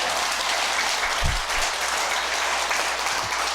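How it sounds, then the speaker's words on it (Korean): A congregation at a Buddhist temple Sunday service applauds in a steady, dense wash of clapping from many hands, sustained evenly throughout with no talking. "그때 꼭 나오실 분만 박수를 치세요."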